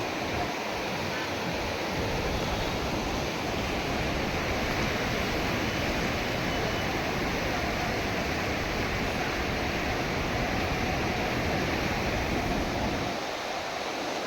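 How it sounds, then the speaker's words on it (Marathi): Fast-flowing flood water of the Indrayani river, swollen over a bridge, rushes as a loud, steady broadband roar throughout, with no talk. "आता सध्याला खूपच वेग आहे पाण्याचा"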